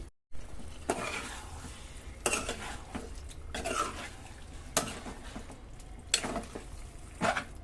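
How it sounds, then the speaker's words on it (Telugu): Chicken pieces are stirred into a spiced masala in a pan: a utensil scrapes and clanks against the metal in repeated, irregular strokes over a soft, steady background, with no talking. "చికెన్ వేసేసుకుందాము చికెన్ వేసుకొని బాగా కలపాలి"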